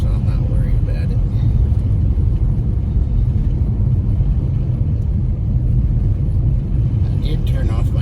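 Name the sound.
four-wheel drive vehicle driving on a snowy road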